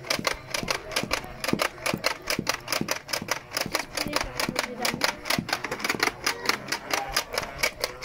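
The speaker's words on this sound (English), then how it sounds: "So this is the gun sound, and it's very powerful." Nerf Airstrike Terminator toy gun plays its electronic firing sound effect, a fast, steady stream of sharp mechanical clicks close to the microphone, repeating evenly throughout.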